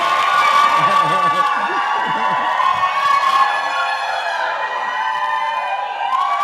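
Crowd cheering at a Thai political event: loud, continuous massed shouting and whistle-like cries, steady throughout without pause.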